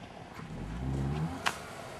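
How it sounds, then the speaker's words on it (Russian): Car engine revving as its wheels spin in deep snow, a low droning roar building and fading over a couple of seconds, with a sharp knock near the end; a Nissan Pathfinder or Subaru Forester stuck in snow. "Ну уже хотя бы слышно хотя бы колеса."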